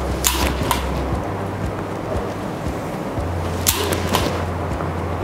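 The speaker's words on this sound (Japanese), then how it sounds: "実はこの商品、はい、振るとカチッっていう音がするんです" A 45-inch golf swing practice club (Dia Swing Pro Tour) is swung twice, about three seconds apart. Each swing makes a sharp airy whoosh and a quick click over a steady low rumble of outdoor wind noise.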